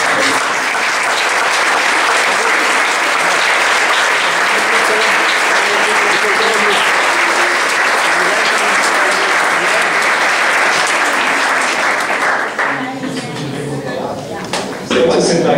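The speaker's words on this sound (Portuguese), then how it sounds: "Você pode aplaudir o Senhor?" Sustained, loud applause from a large church congregation indoors at a Good Friday breakfast service, steady for a long stretch before thinning out near the end.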